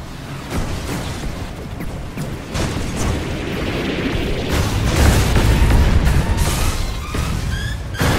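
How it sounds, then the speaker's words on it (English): Incoming rockets in the video game Battle for Earth burst into a loud, rumbling run of booms and blasts that swells toward the middle, with sharp pops and whistling streaks layered over the rolling explosions. "here come incoming rockets. Oh, one got me."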